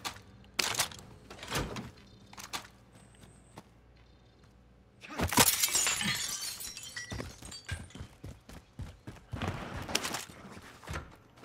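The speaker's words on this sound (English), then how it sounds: "I told myself I wasn't gonna break any glass in this game" Glass shattering in a first-person shooter game, a sudden loud crash with a spray of breaking shards, surrounded by scattered sharp game impacts and thuds, no talk.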